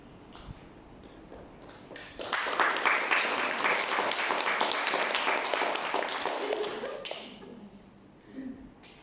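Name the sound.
audience applause at a seminar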